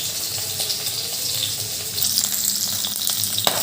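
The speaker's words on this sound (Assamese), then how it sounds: "এইফালে ঔটেঙাখিনি ফ্ৰাই হৈ আছে।" Elephant apple (outenga) pieces fry in a pan for an Assamese meal, a steady loud sizzle and crackle with bubbling hiss that swells slightly louder partway through, with no voices.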